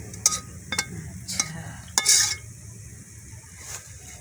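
Green banana chops frying in oil in a village kitchen: a faint crackle and sizzle runs underneath a few sharp metallic clinks and scrapes of a utensil against the pan, spaced about half a second apart.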